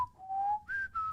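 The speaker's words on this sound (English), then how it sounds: "I was just whistling round and round" A person whistles a short, wavering tune nearby: a long sliding note, then two higher notes, clear and alone with no talking.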